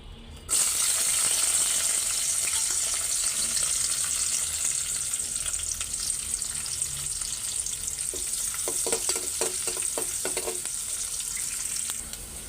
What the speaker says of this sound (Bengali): পেঁয়াজ লাল হয়ে আসছে